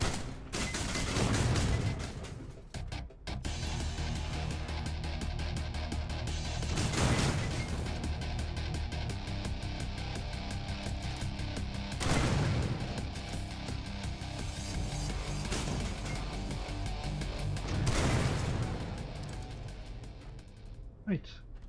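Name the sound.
turret gunfire in the video game Mothergunship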